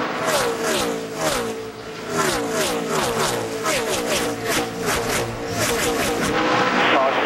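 NASCAR race cars roar past on track in a rapid series of loud engine surges, each pass rising and falling in pitch as the pack streams by, with commentary voices faintly mixed in.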